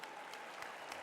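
An audience at an evening talk in Grenoble applauds a sketch artist. The clapping is faint and distant, a soft continuous patter with a few sharper claps standing out.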